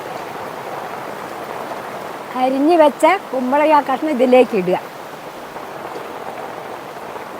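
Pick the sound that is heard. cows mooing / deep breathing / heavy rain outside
heavy rain outside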